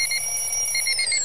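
An alarm clock rings steadily at a set 6 a.m. wake-up time, a bright, sustained electronic tone pulsing in quick repeated beeps, loud and close with no voices.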